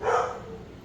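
A single short dog bark, fairly close, followed by a fading tail of room noise.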